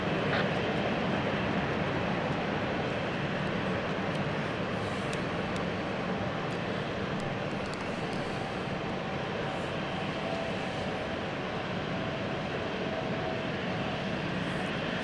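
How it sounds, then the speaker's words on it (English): Steady roar of a jet aircraft at London City Airport, loud and sustained with no break, engine noise filling the whole stretch without voices. "Stunning aircraft."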